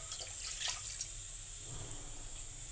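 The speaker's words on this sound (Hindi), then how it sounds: "अब हम थोड़ा सा पानी डालेंगे।" A little water pours steadily into a pressure cooker in a home kitchen, a soft continuous trickle with a faint hiss, close and quiet, with no talking.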